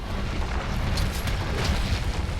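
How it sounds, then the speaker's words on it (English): A short explosion in a video game gives a dense, rumbling low boom that stays loud and rough for about two seconds, alone without talking. "Let's do a short explosion, because I already committed to the animation."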